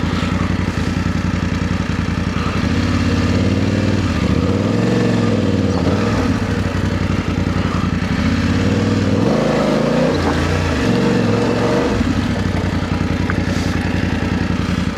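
A trail motorcycle on a Cornish section of the Trans Euro Trail runs continuously up close, its engine droning and rising and falling in pitch with throttle changes amid wind and clatter.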